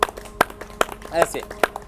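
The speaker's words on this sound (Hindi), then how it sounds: "2 मिनट ऐसे ताली बजा लिया करें" Hands clap slowly and evenly as a stress-relief exercise, a sharp, loud clap about every 0.4 seconds, with a voice talking between the claps.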